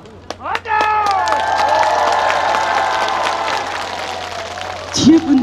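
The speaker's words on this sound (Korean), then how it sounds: "박수와 함성!" Concert crowd at an outdoor festival stage applauds and cheers loudly and steadily for about five seconds, with a few sharp claps at the start and a burst of louder voices near the end.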